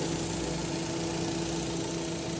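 A car engine idles just after servicing at a garage, a steady close mechanical hum with a faint high whine, unbroken throughout.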